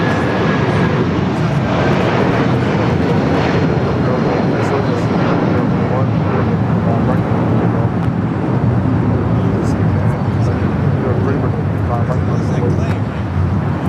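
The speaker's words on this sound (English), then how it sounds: "Another Delta 767 at 400 ER touching down here on the south side." A Delta Boeing 767-400ER touches down on the south side of LAX, its loud, steady jet roar filling the whole stretch with broadband rumble, while a voice talks over it.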